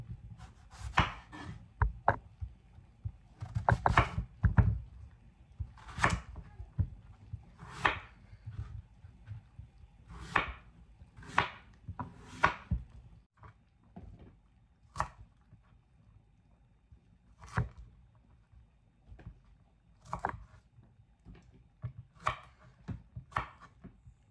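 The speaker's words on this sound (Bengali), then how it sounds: "তা আমি এখন বেগুনগুলো কেটে নিব" A knife chopping eggplants on a board in a home kitchen: a quiet, irregular series of sharp taps, some in quick clusters and some spaced apart, with no speech.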